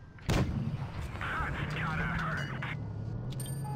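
A T-34-1 tank cannon fires once in WoT Blitz, a loud sudden boom that rolls off into a sustained rumble, with a voice talking over the aftermath.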